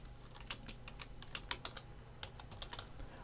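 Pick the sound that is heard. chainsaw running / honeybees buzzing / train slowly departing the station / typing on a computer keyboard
typing on a computer keyboard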